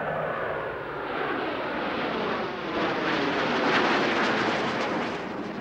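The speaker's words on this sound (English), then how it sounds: "From the right at 400 miles per hour, the 6 aircraft are approaching for the Delta Flat Pass." Six US Navy Blue Angels jets approach at 400 mph in a Delta Flat Pass, a loud, broadband roar that swells and builds steadily as they draw nearer.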